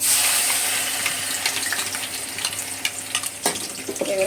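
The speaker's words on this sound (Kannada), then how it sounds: "ಚಕ್ಕೆ ಲವಂಗ ಈರುಳ್ಳಿ ಶುಂಠಿ ಬೆಳ್ಳುಳ್ಳಿ ರುಬ್ಕೊಂಡಿದ್ದೀನಲ್ಲ ಈ ಪೇಸ್ಟು ಇದನ್ನೀಗ ಬಾಣಲಿಗೆ ಹಾಕೋತೀನಿ" Spice paste of ground cinnamon, clove, onion, ginger and garlic frying in a pan with a little oil, giving a steady close sizzle with scraping stirs and a few sharper clatters toward the end, no voices.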